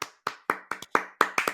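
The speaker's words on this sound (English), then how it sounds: "can we get a round of applause for the Toronto Maple Leafs?" Sparse, loud hand claps close to the microphone, about eight sharp slaps in an uneven rhythm, like one or two people clapping alone with no voices.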